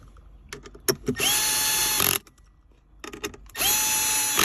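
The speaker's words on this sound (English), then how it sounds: "Set my electric screwdriver so it doesn't over torque the screws" A cordless electric screwdriver drives Torx screws into chrome centre console trim on a Mercedes-Benz C-Class W205, two sustained whirring bursts with clicks and handling noises between them, close and loud.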